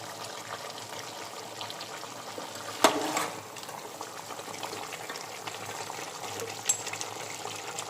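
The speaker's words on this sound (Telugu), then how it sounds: "ఇప్పుడు కొంచెం వాటర్ వేసుకుందాం." Water added to a pan of country chicken curry, giving a steady wet bubbling and gushing hiss that continues for several seconds, with one brief louder splash early on and no voices.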